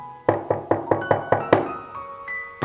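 Knuckles rap on an office door in a quick series of about seven close, sharp knocks, then fall silent until one final single knock.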